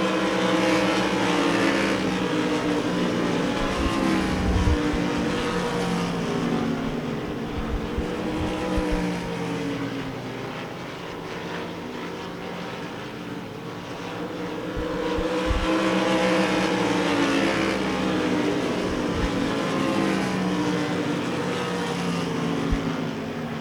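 Race cars in a heat race at a dirt track speedway roar continuously in a pack at steady speed, the engine drone swelling and fading as they circle the track, with no talking.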